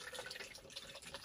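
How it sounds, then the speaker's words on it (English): Water runs into a 16-ounce plastic shaker bottle being filled for an energy drink, a steady broadband splashing rush with small bubbling variations throughout, close and continuous with no talking. "Let's now fill up this shaker with water."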